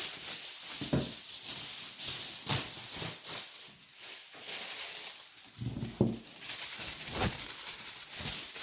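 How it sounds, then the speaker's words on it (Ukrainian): Aluminium foil crinkles and rustles while being pressed over a dish of small banana-filled Odesa crepes, in soft repeated bursts of crackling with brief pauses between them, fairly close and moderately quiet. "Тепер зараз накриваю фольгою."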